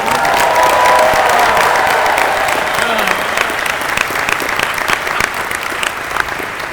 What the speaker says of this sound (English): So if you could all help me give it a big round of applause for Tom.